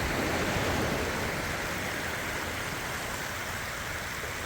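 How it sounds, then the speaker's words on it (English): McDonald Creek flowing out into the Dungeness Wildlife Refuge beside the Strait of Juan de Fuca: a steady, loud, broadband rush of moving water, continuous and close, with no voices. "this is Mcdonald Creek, where it flows out into the Dungeness Wildlife Refuge."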